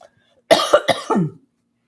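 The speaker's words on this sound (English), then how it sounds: "So if I'm coughing, it's because I just finished wolfing down some cereal" Four quick harsh coughs in a row, close and loud, then quiet.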